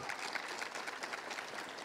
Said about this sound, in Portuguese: Queria pedir uma salva de palmas para ele